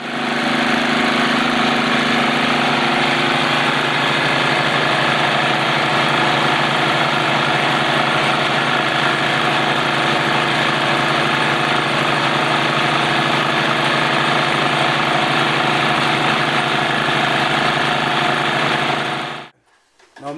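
A Newman motor drives a generator in a steady, continuous mechanical whir with a buzzing hum that holds even and loud for about twenty seconds before cutting off abruptly.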